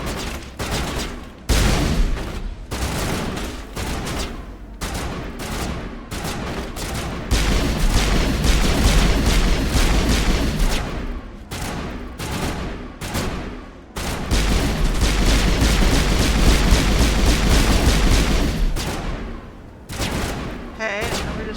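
Dense bursts of pistol gunfire in the video game Mass Effect, loud and rapid, sometimes packed into continuous volleys with brief pauses between them.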